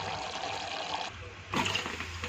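Glasses of water poured into a pot of rice for egg biryani: a steady close splashing pour, a brief lull, then a second louder gush of water, with no talking.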